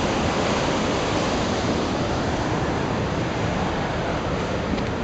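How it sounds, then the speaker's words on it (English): Upper Yosemite Falls roars far below an overlook, a steady, dense wash of falling water with no break or variation, loud and continuous throughout with no voices. "One more shot down at the falls roaring down there."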